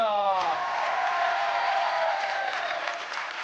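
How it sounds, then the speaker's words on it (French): A French TV game show studio audience applauds after a country dance segment, dense sustained clapping with some cheering, while a host's voice rises and fades at the start. "On applaudit fort Karine"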